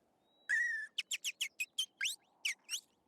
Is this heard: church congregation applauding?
no